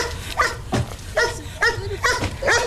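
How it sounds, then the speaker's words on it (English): A dog from a refugee camp barks repeatedly at close range, about six rough barks in an irregular rhythm over a faint outdoor background. "this is my refugee dog"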